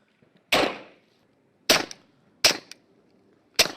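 Four sharp, suppressed gunshots from a gun fitted with a silencer, each a crisp crack with a quick decay, irregularly spaced and close, with no talking between them.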